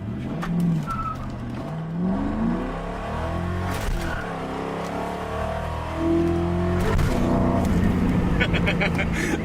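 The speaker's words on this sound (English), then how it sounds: "The power shift is when you don't lift off the gas, and you just take that force into the next gear." A car engine revs hard through a power shift without lifting off the throttle, its pitch climbing, dipping briefly at the gear change, then rising again, close and loud.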